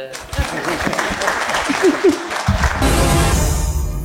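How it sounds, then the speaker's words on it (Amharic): Warm applause from a studio audience at an Ethiopian television gathering of former army members, a loud dense clatter of clapping building through the clip and swelling strongly near the end, with voices mixed in. "ሽልማቱ ለሁላችሁም ሞቅ ያለ ጭብጨባ ነው"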